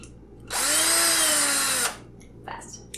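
A power drill quickly drives hex bolts and nuts, giving one loud whirring burst of a bit over a second with a rising then falling pitch, followed by brief clicks and rattles.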